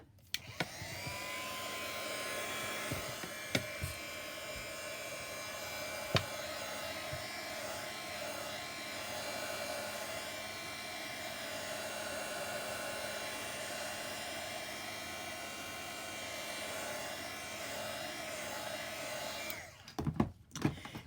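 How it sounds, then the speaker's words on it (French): A hot air dryer blows steadily to dry stamping ink on a handmade bookmark, a continuous loud whirring hum with a few faint clicks, running alone for about twenty seconds before switching off. "Je vais sécher un peu pour ne pas barbouiller l'encre."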